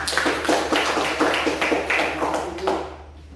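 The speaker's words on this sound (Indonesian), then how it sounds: "Tepuk tangan." A classroom of students claps together in a short burst of rhythmic, fairly close applause lasting a few seconds before fading out.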